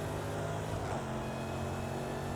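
A Jaguar F-Type SVR engine in a racing video game, played on a rally course, holds a steady, sustained growl with a constant drone and no talk over it.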